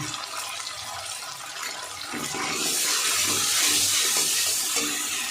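A small amount of water goes into a pan of frying masala with turmeric and chillies for a koi fish curry. It starts as a soft pouring hiss and swells into a louder, close rushing sputter.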